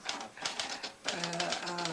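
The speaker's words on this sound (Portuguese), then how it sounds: "aí eu venho para essa sala aqui e para essa maquininha de escrever velha de guerra. E então datilografo, não digito, datilografo" An old manual typewriter clatters with fast, irregular keystrokes, close and crisp. The typing pauses briefly and then resumes, with a faint voice underneath.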